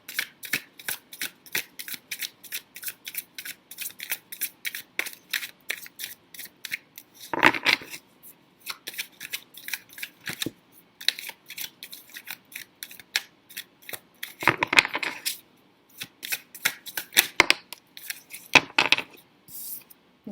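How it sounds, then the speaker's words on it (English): Tarot cards being shuffled and drawn, with a steady run of crisp, close card flicks and snaps broken by a few louder riffles, quiet and with no voice. "I'm just going to get one more card to confirm that"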